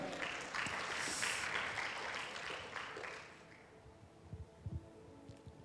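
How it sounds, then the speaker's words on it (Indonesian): A church congregation claps for God during a worship service, a broad wash of applause that fills the first few seconds and then thins out into scattered claps and quiet room noise. "Beri tepuk tangan buat Tuhan."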